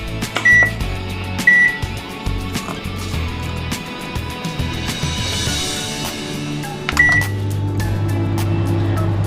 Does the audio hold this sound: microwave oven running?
yes